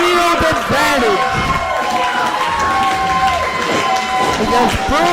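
A live pro wrestling crowd roars and cheers loudly throughout, with shouts and whistles rising and falling over a dense wall of noise, and an announcer's voice can be heard over it.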